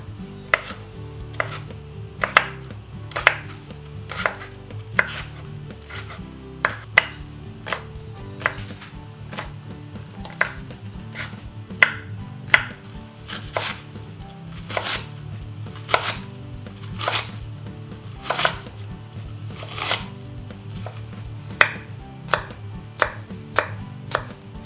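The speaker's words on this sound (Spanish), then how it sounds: "empezaremos por pelar, cortar y sazonar unos 250 gramos más o menos de berenjena" A knife chops about 250 grams of peeled eggplant on a board in a steady series of sharp, close knocks, spaced irregularly, with no talking over it.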